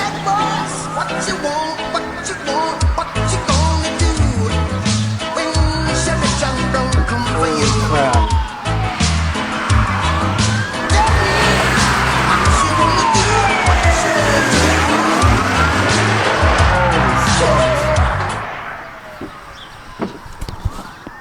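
Police sirens wail loud and continuous during a high-speed car chase in front of a house, several emergency vehicles overlapping with rising and falling tones before cutting off abruptly near the end.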